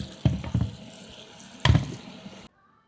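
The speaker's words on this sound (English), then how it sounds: "I like to rinse my noodles off." Spaghetti noodles rinsed under running tap water in a sink, a steady close splashing stream with two louder bursts as the noodles shift, stopping abruptly near the end.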